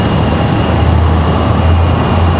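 Steady, loud low roar of an Aeromexico airliner's jet engines at Raleigh-Durham International Airport, a continuous broadband rumble with no break throughout.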